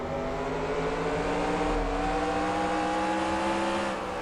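Simulated NASCAR stock car engines in the NASCAR Racing 2003 Season game at Five Flags Speedway give a loud, continuous droning roar that holds steady with slight shifts in pitch, with no talking.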